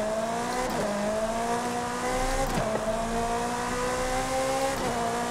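Ferrari Portofino engine in Forza Horizon 5, played on a Logitech G920 wheel: a loud, continuous in-game engine drone rising in pitch through the gears, with brief dips at roughly each shift, heard alone.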